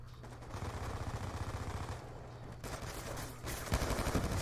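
Steady automatic gunfire in Call of Duty Black Ops 2, a fast continuous rattle of shots with brief pauses and a louder burst near the end, set against background game noise.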